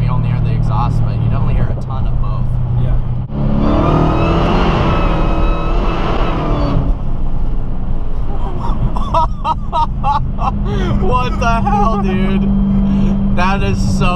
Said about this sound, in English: This car's a really good mix of awesome exhaust note and then aggressive supercharger whine.